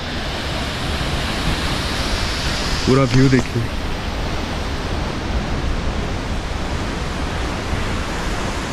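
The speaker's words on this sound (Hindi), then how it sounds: "मेरे सामने ये रहा फेफे फॉल्स। ओ माय गॉड क्या सुंदर है यार" Fefe Falls, swollen after rain, gives a constant, close, broadband roar of rushing water throughout, with a person briefly speaking over it.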